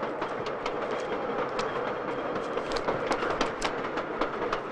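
A passenger train runs steadily on the rails with a continuous rumbling roar and faint rhythmic clacks, loud and close throughout, with no talk.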